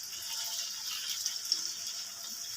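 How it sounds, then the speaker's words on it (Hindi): Water poured from a vessel into tomato masala in a pan makes a steady, soft, hissy splashing stream that runs unbroken and untouched by speech. "थोड़ा सा हम इसमें पानी शामिल कर लेते हैं"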